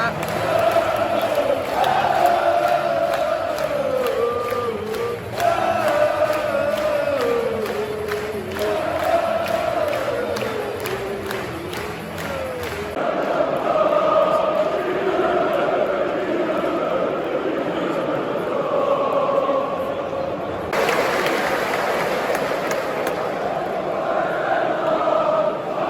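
Large football crowd at a Feyenoord match in Rotterdam roaring and cheering after a goal, a dense sustained swell of voices with chants and shouts rising and falling throughout, loud and close.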